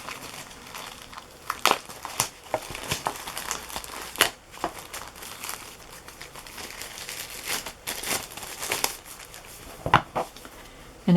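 A wrapped pack of Music Boutique note cards from 1978 is handled up close, giving a steady crinkle of plastic with sharp crackling bursts scattered throughout, with no voices.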